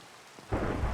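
Minecraft rain and thunder rise from a quiet backdrop into a loud, steady rumble of downpour with deep thunder, brief and alone.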